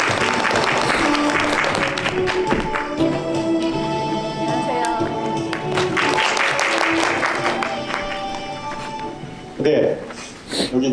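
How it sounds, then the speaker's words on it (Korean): An audience at a community garden festival talk show claps to welcome a guest, with scattered applause heard under music and voices talking. "박수로 맞아주시기"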